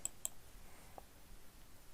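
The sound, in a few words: computer mouse clicking in Outlook settings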